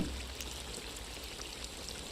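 Onions fry in a kazan cauldron over an open fire, a steady bright sizzle and crackle that stays fairly constant for a couple of seconds with no voices.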